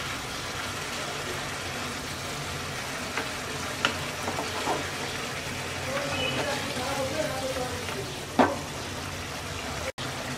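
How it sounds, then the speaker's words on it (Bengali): Koi fish pieces go into a bubbling tomato sauce and are gently stirred, giving a steady close sizzle with occasional soft scrapes and a sharp knock near the end. "মাছ দিয়ে দিচ্ছি। এবার হালকা হাতে মিক্স করে নেব।"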